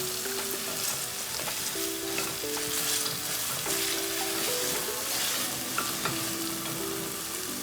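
Onion fries in a pot until translucent for a Zambian boerewors stew, giving an even, unbroken sizzle with faint steady tonal hum beneath it and no talk.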